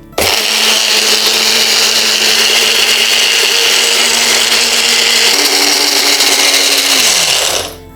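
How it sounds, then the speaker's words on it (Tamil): A wet grinder or mixer blends avaram (Senna auriculata) leaves with urad flour and water, a steady loud whirring drone that starts abruptly, holds for about seven seconds, then winds down as the motor is switched off. "ஆவார இலை மற்றும் உளுந்து மாவு இதோட நீர் விட்டு அரைச்சிடலாம்"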